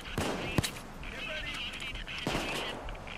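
Scattered gunshots during a bank heist shootout in a video game: a few sharp cracks among steady background battle noise, with people speaking.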